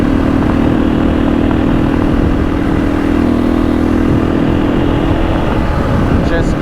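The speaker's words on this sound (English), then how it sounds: "I'm loving this old bike." An old motorcycle roars continuously while being ridden on an adventure ride, its engine loud and close with steady wind rush throughout.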